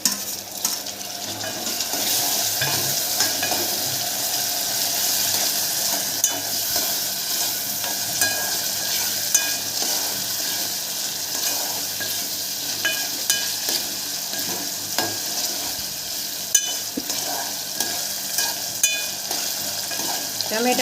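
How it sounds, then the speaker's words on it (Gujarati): Onions sautéing in a pan for South Indian sambar, a steady dense sizzle of frying with occasional stirring scrapes and light clinks of utensil against the pot, close and continuous throughout with no talking. "ચાલો, આપણી ડુંગળી સરસ સોતે થઈ ગઈ છે."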